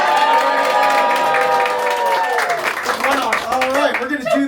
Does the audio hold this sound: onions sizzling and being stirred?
no